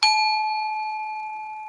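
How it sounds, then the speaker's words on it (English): A single bell is struck once, giving a bright clear strike that settles into a sustained ringing tone with several overtones, decaying slowly and alone without any talking. "I love the sound of the bell."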